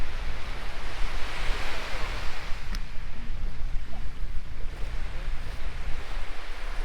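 Surf rolls steadily onto Withernsea beach on the UK coast, a continuous loud wash of breaking waves mixed with wind buffeting the microphone.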